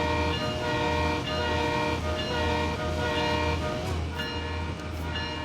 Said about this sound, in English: It's like the horn on the inside and the horn on the outside is like combining together, and it makes like this sound.